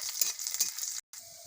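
Garlic and chilli tempering sizzles in oil in a wok, a steady close, bright hiss with stirring scrapes, broken by a brief silence before the frying resumes.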